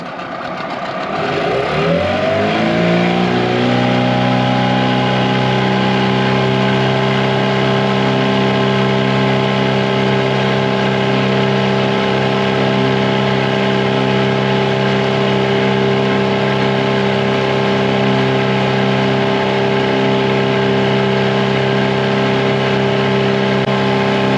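Tohatsu 9.8 two-stroke outboard motor on a boat running at top speed, rising quickly in pitch and then holding a loud, steady high-revving buzz up close.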